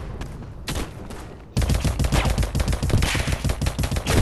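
MP40 submachine gun fire in the shooter game Polyfield: after a short pause, loud rapid automatic bursts rattle continuously, close and sharp, with no talking.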